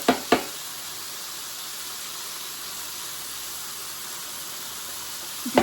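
Sausage meat frying in a pan gives off a steady, even sizzle that holds at a moderate level throughout, with a couple of brief knocks near the start and end.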